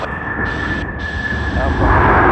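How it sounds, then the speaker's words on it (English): Jet airliner thrust reversers deploying on landing at Sydney Airport: a loud, broad roar with a steady high whine that swells toward the end, with voices talking over it. "Take a listen to the thrust reversers."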